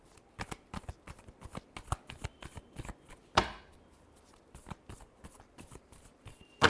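Tarot cards being shuffled by hand, a quick series of soft papery slaps and riffles at an uneven rhythm, close and fairly quiet, with one sharper riffle in the middle.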